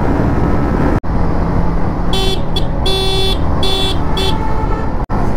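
A vehicle on a hilly village road gives several short horn toots in quick succession, loud and close, over the steady engine and road noise of the vehicle it is passing.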